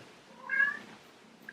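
A cat nearby lets out a single short, soft meow in an otherwise quiet room.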